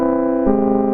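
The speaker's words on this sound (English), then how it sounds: "That going into the lo-fi junkie pedal from Zvex, which sounds like this." Replay synthesizer run through a Zvex Lo-Fi Junkie pedal, a sustained harmonic chord-like tone that shifts pitch about halfway, loud and steady with no talking.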